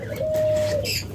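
An Australian diamond dove gives a single soft, drawn-out coo. It is close and clear over a faint background hum, and ends with a brief higher chirp.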